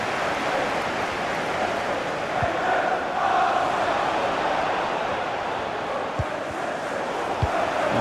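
Stadium crowd in a FIFA 23 football match, a dense continuous roar of cheering and chanting at steady loudness, with a few faint thumps.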